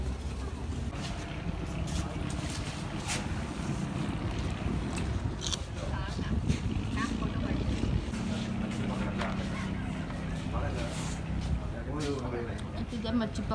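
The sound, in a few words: houseboat moving on water in Kerala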